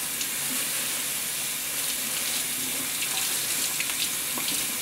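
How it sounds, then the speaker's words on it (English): Steady cold tap water running into a kitchen sink while lettuce is rinsed, a continuous close hiss and splash with faint clatters and no talk. "we're going to bring them to the sink to rinse. You want the water on cold"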